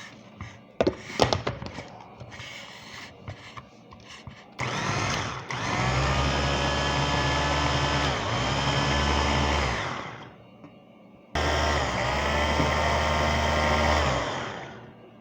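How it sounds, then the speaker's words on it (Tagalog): A kitchen blender grinds biscuits and chocolate cupcake after a few sharp knocks, running loud in two long whirring bursts with a short pause between them. "Ayan, i-blender ko."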